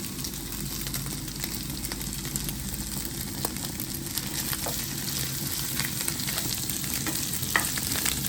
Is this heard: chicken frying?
yes